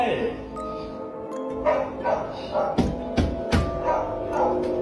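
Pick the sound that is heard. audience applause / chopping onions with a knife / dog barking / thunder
dog barking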